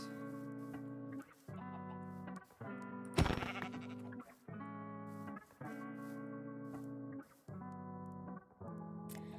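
Sheep in the video game Minecraft give repeated synthetic, buzzy bleats, about eight evenly spaced calls with short gaps, plus one sharp hit sound partway through.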